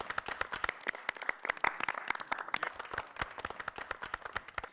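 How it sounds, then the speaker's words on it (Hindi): Audience applause in a housing-society gathering on a patriotic-themed stage program, with dense, steady clapping from many people that holds at an even level throughout and has no talking over it. "एक बार जोरदार तालियां।"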